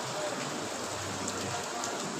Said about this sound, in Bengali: এই যে দেখেন বাহিরে বৃষ্টি